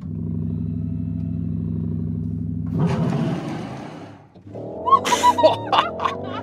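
Porsche Cayenne electric SUV pulling hard under acceleration: a steady low droning hum gives way to a loud surging whoosh of wind and road noise, then rattling cabin clatter and sharp bursts near the end.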